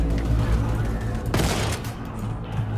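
A shotgun fires in the Wolfenstein 2 video game, one sharp blast standing out from a constant loud wash of game combat noise and rumbling.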